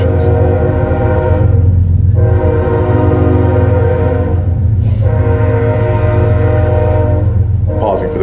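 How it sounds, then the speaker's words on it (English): Freight train rumbling past a meeting place in Waller County, with long, loud horn blasts sounding repeatedly over a steady, heavy rail drone that fills the whole stretch. "Pausing for the train."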